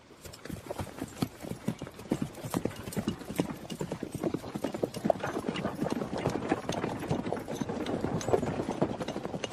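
Steady, rhythmic clip-clop of horse hooves on a hard surface, continuing throughout at a brisk trot over a faint background rumble.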